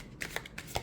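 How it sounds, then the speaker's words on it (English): A glossy-cardstock tarot deck is side shuffled in a few quick, soft riffling bursts, close and quiet with no talking. "it does seem to side shuffle really well"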